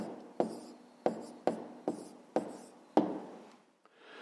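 A pen writes an answer by hand on paper, with six sharp tapping strokes spaced unevenly, each followed by a short scratchy trail, close and quiet.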